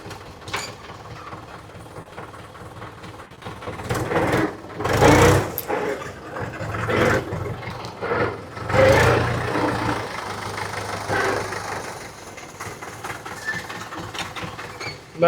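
A John Deere tractor engine rumbles nearby, a steady mechanical chug that swells loudly around the middle as it passes and stays running afterward.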